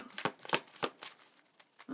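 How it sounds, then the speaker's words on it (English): Several decks of cards being shuffled by hand, a series of crisp riffling bursts spaced about a quarter second apart, close and fairly loud with no voices. "I do pre-shuffle all of the decks and that sort of thing."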